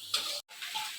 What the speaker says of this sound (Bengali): আলু পেঁয়াজ ভাজা হয়ে গেছিলো, তার মধ্যে এবার ভাতটাকে দিয়ে দিল